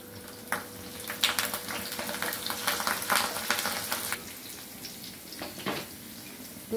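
Onions and curry leaves frying in hot oil make a crackling, popping sizzle with bursts of sharper spatter, loud then easing off before flaring again, close by and without talk.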